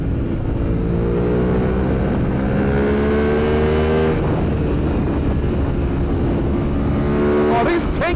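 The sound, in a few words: Aprilia motorcycle engine popping while riding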